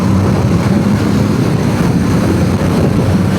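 A Honda Shadow 1100 cruiser motorcycle accelerating hard, a loud, continuous engine roar held close throughout with no voices.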